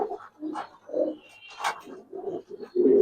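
Giribaz and racer fancy pigeons coo at a pigeon farm, a run of soft, throaty, rolling coos repeating close by in uneven bursts, with the loudest, fullest coo at the end.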